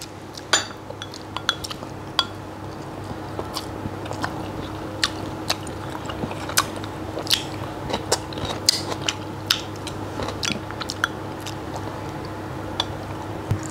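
Someone bites into and chews crispy fried pork ribs in sweet-and-sour sauce at a Vietnamese noodle eatery, with close, crunchy chewing, soft wet mouth sounds and occasional clinks of cutlery and dishes.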